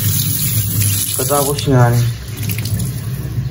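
Tap water running steadily into a sink during cleaning, a continuous close splashing rush with a few brief swirling gurgles, while a person speaks briefly over it.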